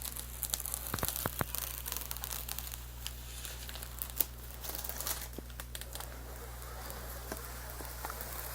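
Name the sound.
peeling protective film off PC part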